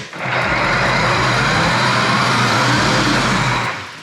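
The motor of a RIDINGTON 24V kids electric go-kart with drift function spins the wheels freely, a steady loud whirring hum that starts quickly, holds for about three seconds, then fades.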